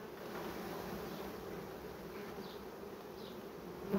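Honey bees shaken off a hive frame into an empty compartment buzz in a faint, steady, continuous hum with no voices.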